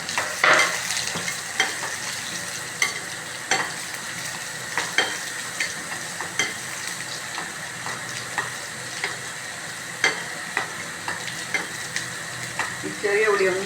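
Small onions sauté in hot oil with cumin and garlic, a steady sizzle broken by regular spoon strokes and scrapes against the pan, close and clear.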